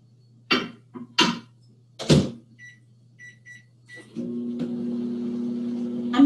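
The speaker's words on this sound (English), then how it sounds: "I'm starting with just 1 minute in the microwave" A few knocks and clatters, then a microwave oven starts with a steady low hum that continues to the end.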